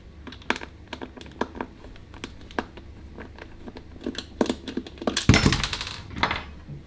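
Small screws being unscrewed from the casing of a Bowers & Wilkins Zeppelin speaker, a run of close, light clicks and ticks from the screwdriver, ending in a louder clatter of handling.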